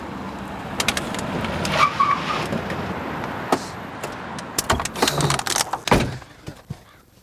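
A car on a road comes to a stop. Engine and road rumble carry a string of sharp knocks and thuds, with a heavier thump near the end and no talk.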